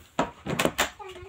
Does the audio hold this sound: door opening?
yes